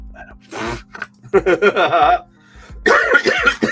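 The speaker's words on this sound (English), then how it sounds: "I don't mean to be coughing in your ear" A few close, loud coughing bursts, with a short pause between them and a final harsher cough fit.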